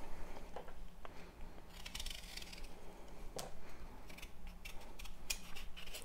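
Orange skin being peeled off a pumpkin by hand, heard as faint close scraping and snipping strokes that come in short irregular bursts over a quiet background.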